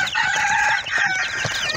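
A close, busy chorus of clucking and peeping from Brahma chickens and their chicks, continuous and fairly loud throughout, with no talking.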